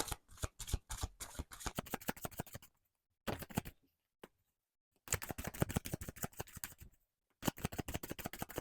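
Tarot cards being shuffled by hand, in rapid riffling bursts that stop for short pauses and start again, close and fairly quiet with no talking.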